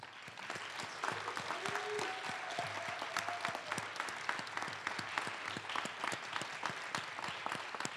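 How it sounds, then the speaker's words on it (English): Applause for an honoree at a city council meeting, a fairly quiet, sparse round of clapping with distinct individual claps from a small chamber audience, steady throughout. "Please join me in giving Rich Saito a big round of applause"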